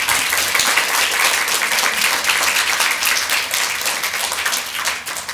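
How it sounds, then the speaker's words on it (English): Audience applause for a panel at the close of a talk on plastic degradation and art conservation, dense steady clapping from a crowd lasting throughout and fading slightly at the end. "let's give a warm round of applause for our wonderful panel."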